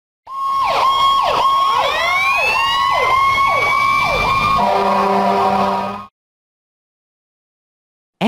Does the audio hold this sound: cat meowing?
no